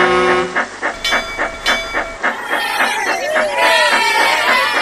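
Toby the tram engine sets off pulling the coach Henrietta, with rhythmic chuffing steam puffs, hissing and a sustained whistle-like tone, loud and close throughout.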